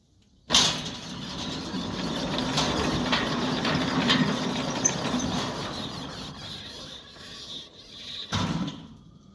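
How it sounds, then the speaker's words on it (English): A Centurion D6 Smart motor drives a steel sliding gate in Johannesburg, a steady mechanical rumble and rolling grind starting abruptly and running continuously for several seconds before a clunk near the end. "See that the gate motor stands dead still when being operated."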